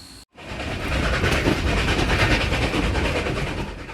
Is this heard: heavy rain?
no